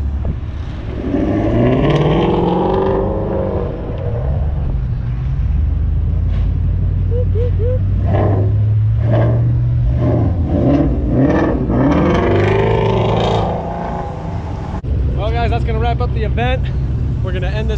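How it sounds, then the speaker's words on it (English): Shelby cars, including Voodoo-engined models, rev and pull away one after another as a Caffeine and Octane car meet breaks up. Loud engine roars rise and fall close by, with people talking over them. "Video with the cars departing Caffeine and Octane."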